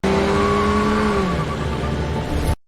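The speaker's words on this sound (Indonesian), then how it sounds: "Tony pun pergi dengan membawa mobil Kang" A car pulls away and drives off. Its engine is loud and close, a steady hum that sinks in pitch as it goes, then cuts off abruptly.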